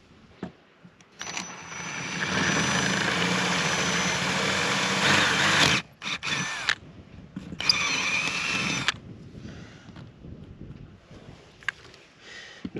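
A drill whirs in bursts while boring progressively larger holes into RV fiberglass, first one long steady run, then shorter spurts separated by quiet pauses and small handling clicks.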